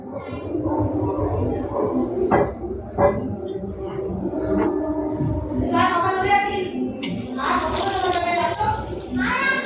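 Tomato chops drop into hot oil one by one and fry with a continuous watery sizzle and crackle, under a voice talking throughout.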